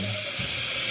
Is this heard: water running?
yes